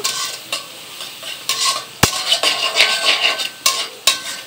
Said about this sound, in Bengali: কাঁচামরিচ পেঁয়াজ দিলাম। এখন ভালো করে বাগার দিয়ে নিব।